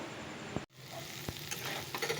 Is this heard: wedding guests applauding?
no